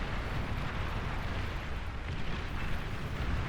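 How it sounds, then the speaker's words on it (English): Scorpion pop-up defenses in Beyond All Reason fire amid dense, loud rumbling explosions and blasts that roll on continuously with no clear gaps. "I really like these Scorpion pop-up defenses. I think the sound that they make, the sound effects, is fantastic."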